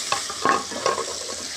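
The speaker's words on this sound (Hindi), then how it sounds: "मिक्स करेंगे" Spices are stirred into chicken pulao in a pan, giving a soft, quiet sizzle with a few light scraping stirs and clinks, no voices.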